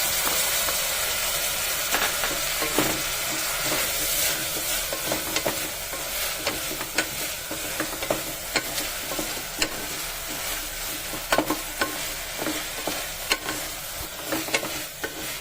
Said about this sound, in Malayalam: ഇതിലേക്ക് നമുക്ക് ചെറുതായി അരിഞ്ഞ തക്കാളി ഇട്ട് ഇളക്കാം